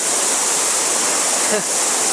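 Rushing creek in flood pouring over a submerged, flattened waterfall on a wet day, a loud, close, unbroken roar of water filling the whole clip.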